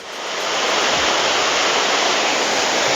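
The Binangabolon jungle waterfall in the hills of Simalungun rushes in a steady, loud, broadband roar of flowing water, heard close and continuous with no voices.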